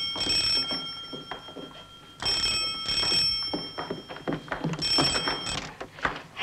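An electronic telephone ring trills in three repeated bursts with short gaps between them, moderately loud, with scattered background clatter.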